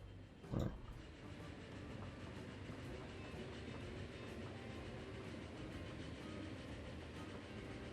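A train rolls steadily through a Transport Fever game scene, a continuous low rumble with faint rhythmic clatter, preceded by one brief louder knock near the start.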